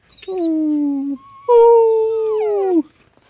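A dog howls in two long, drawn-out tonal notes, the second higher and sliding downward at its end, loud and close with a short pause between them.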